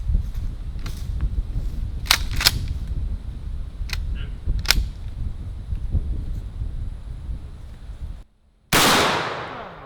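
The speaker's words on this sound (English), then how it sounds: "we're going to shoot a slug and we're going to shoot double-aught buckshot at the same wall" Shotgun shots, a slug or double-aught buckshot fired into a wall: several sharp, loud cracks in the first seconds, then a brief hush and a final close, powerful blast that rings out and decays.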